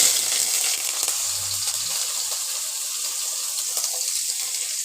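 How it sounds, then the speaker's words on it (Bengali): Onion is added to hot oil in a pan with a whole chilli. It gives a steady, bright hiss of sizzling that stays even throughout, with a faint low clunk early on and no speech. "প্রথমে আমি পেঁয়াজটাকে দিয়ে দিচ্ছি তেলের ওপরে।"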